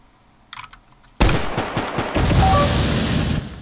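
Gunfire in the video game Polywar: a few faint clicks, then a sudden loud sustained burst of rapid automatic shots, close and continuous to the end.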